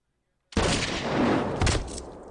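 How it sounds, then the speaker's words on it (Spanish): A single sharp rifle gunshot with a reduced powder charge, simulating a bullet fired at about 800 metres, cracks after a moment of silence, then rolls into a long, rumbling echo that slowly fades. "Una bala disparada a unos 800 metros produce esto."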